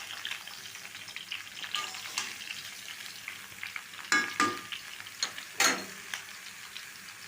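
Raw mango pieces being mixed by hand with oil, five-spice seeds and chilli, soft wet squelching and rustling up close, with a few sharper knocks near the end, no voices.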